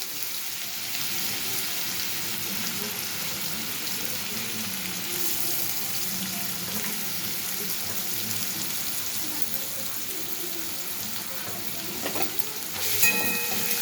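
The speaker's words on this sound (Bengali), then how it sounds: "তেলটা গরম হয়ে গেছে, এবার তেলের মধ্যে আমি গাজর কুচি," Chopped carrots frying in hot oil in a wok, a long steady sizzling hiss with faint stirring movements and a brief louder clatter near the end, no talk.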